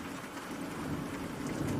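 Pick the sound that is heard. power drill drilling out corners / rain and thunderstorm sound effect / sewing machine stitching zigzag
rain and thunderstorm sound effect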